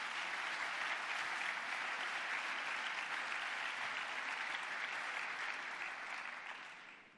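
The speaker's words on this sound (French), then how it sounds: "je pense qu'on peut les applaudir pour tout ce qu'ils ont fait" A large audience applauds hospital practitioners at a French neurology conference, a dense, even wash of many hands clapping that holds steady for several seconds and then fades out.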